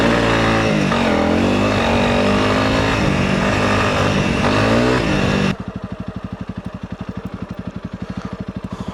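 Honda CRF300 Rally motorcycle ridden on the road, its engine droning loud and steady with shifting pitch as it revs, then cutting to a rapid, pulsing lower putter, with no talk.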